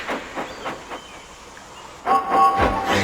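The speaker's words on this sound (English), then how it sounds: "He steamed along the line as smoothly and as quickly as he could." A steam train runs along the line, a rhythmic chuff and hiss with clattering wheels that swells louder and closer toward the end.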